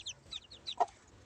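Chinese ducklings eating feed give a few short, high chirping peeps in quick succession, with one louder peep near the end, fairly close over a quiet background.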